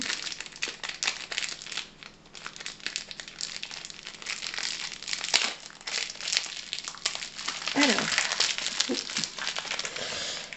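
Crinkling and crackling of heavy sticky tape and packaging on an Advent calendar box being pulled and torn open, continuous close rustling with sharper tearing bursts near the end.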